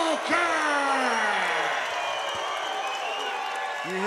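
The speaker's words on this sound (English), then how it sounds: "You hear the crowd, they're excited." An excited crowd at a fight event cheers, whoops and claps loudly, with an announcer's amplified voice carrying over the noise and trailing echoes in a large hall.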